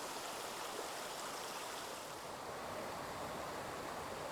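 A small stream flows across a hiking trail, giving a close, steady broadband rush of water that stays even and unbroken with no voices.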